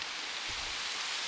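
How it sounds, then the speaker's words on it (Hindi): Small hailstones falling steadily under a stone shelter on a mountain trek, a dense, even hiss of pelting ice that is loud and continuous for the whole stretch. "बहुत ज़बरदस्त पड़ रहे हैं ओले छोटे छोटे भाई"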